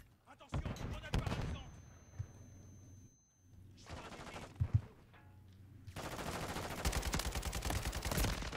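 Gunfire in Call of Duty: Modern Warfare III multiplayer, rapid automatic bursts of shots in loud clusters separated by brief pauses, with someone talking over parts of it.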